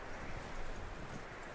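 A horse's hooves clip-clopping in the Red Dead Redemption II video game, a soft, muffled run of uneven thuds over a brief stretch with no talk.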